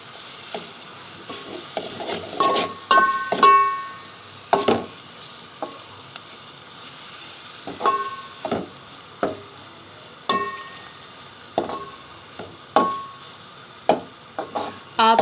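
Turnip bhujia with chopped fresh coriander being stirred in a pan, a spoon scraping and clacking against the metal in repeated strokes over a light, steady sizzle close by.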